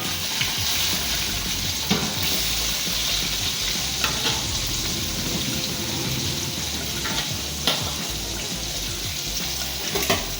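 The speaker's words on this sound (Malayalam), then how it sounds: "അങ്ങനെ നമുക്ക് ചിക്കൻ പൊരിച്ച എണ്ണയിൽ തന്നെ ഞാനിതാ 4 ഉള്ളി ചെറുതായി മുറിച്ച് മസാല ആക്കാൻ വേണ്ടിയിട്ട്." Chopped onions sizzle and fry steadily in oil left over from frying chicken for a Kasaragod-style biryani, a continuous loud crackle with occasional stirring clinks, close and without speech.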